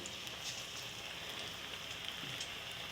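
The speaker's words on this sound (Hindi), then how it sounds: "तो चलें पकोड़ों को डालते हैं घी फ्राई के लिए।" Onion pakoras fry in hot ghee with a soft, continuous crackle and hiss, faint and even, with no voices over it.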